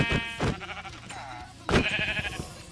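Sheep bleats from the Minecraft video game, two short wavering calls, fairly quiet and close, with no other sounds.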